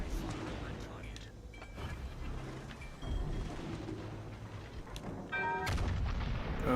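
Warship guns firing in World of Warships: Legends, a steady rumble of heavy naval gunfire with booms, a louder burst near the end, all under ongoing game noise.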